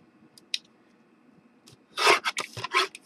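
Paper being trimmed for a tag card: a few faint scratches, then a short burst of close, crisp cutting and rubbing strokes in quick succession, with no talking.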